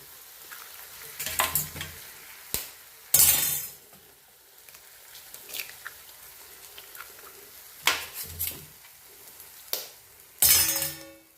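Eggs are cracked one after another into cooked tomatoes in a frying pan, a few sharp shell cracks and clinks over a soft background sizzle, with scraping and stirring between them.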